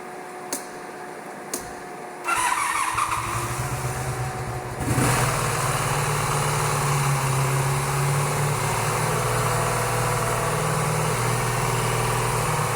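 A cafe racer motorcycle engine cranks and catches, then settles into a steady, rumbling idle, slightly high, that holds evenly for several seconds, close by.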